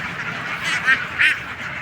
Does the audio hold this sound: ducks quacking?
yes